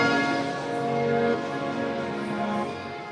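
Piano washed through an Eventide H9000 running the Galaxy Borders ambient algorithm, held chords dissolving into a soft, wide, shimmering granular haze, moderately quiet and continuous with no talking.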